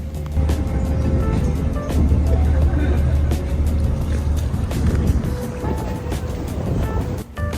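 Boat engines drone loudly and steadily as the vessel pulls away from a harbor in Wexford, Ireland, into the open Celtic Sea, a constant low rumble with wind and water noise.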